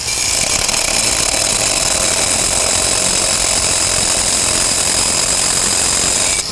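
An HDII construction cutting tool slicing through rock gives a loud, harsh, continuous grinding roar that holds steady and close for the whole stretch, with no voices over it.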